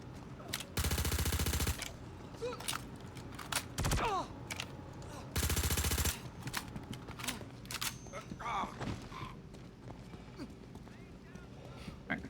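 Gunfire aimed at enemies in a video game comes in two loud, rapid-fire bursts of about a second each, separated by quieter stretches of scattered combat noise and spoken voices.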